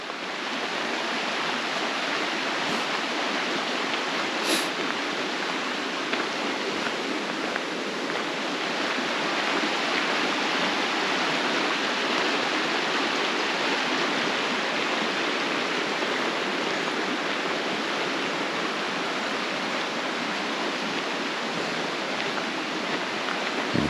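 A river rushes past riverside houses in the Harz town of Sieber, a constant broadband flow of water, steady and moderately loud for the whole stretch with no voices.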